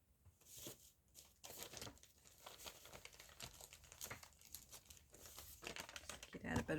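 Paper is pulled out and handled in a craft workspace, giving a series of faint, irregular crinkles, rustles and soft tearing sounds, close and quiet, with a brief murmur of voice.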